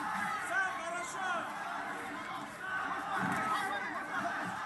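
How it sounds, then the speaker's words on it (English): Crowd at a combat-sports bout between fighters Safari and Yakovlev, chanting and chattering as a distant, steady murmur of many voices. "They are chanting for Safari"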